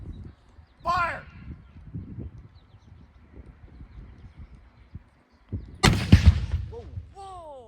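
A War of 1812 re-enactment musket volley goes off as one sharp, loud crack with a rumbling tail, set against quiet outdoor ambience. A commander shouts a brief order just before the shot.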